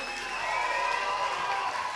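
An audience at a young talents showcase evening applauds a performer, a crowd clapping with some cheering, while sustained musical tones ring on beneath the clapping.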